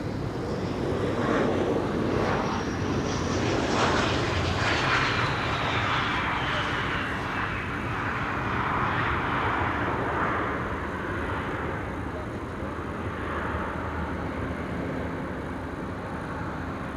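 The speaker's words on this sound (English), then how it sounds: "This is KLM flight 1944, arriving from Basel." A KLM Embraer jet airliner arriving at Amsterdam Schiphol from Basel roars past in a broad, sustained engine rush with a falling whine, steady and moderately distant, no talking.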